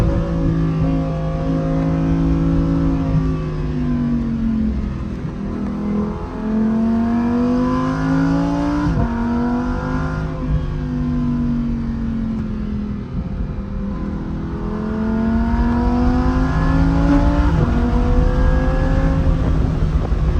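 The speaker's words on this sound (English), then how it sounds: "we're gonna go hop in the car and go drive down some mountain roads" A car drives down winding mountain roads, its engine rising and falling through repeated revs and gear changes, a steady close hum with no talking.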